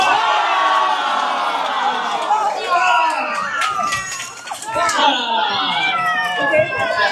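A crowd at a Winter Solstice celebration, children among them, lets out a loud, swelling cheer after a countdown, with excited shouts and chatter layered over scattered slaps of clapping.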